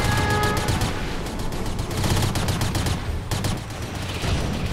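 Sustained gunfire and explosions from a Rise of the Reds skirmish battle, a dense, loud, continuous barrage of rapid shots with a brief lull partway through.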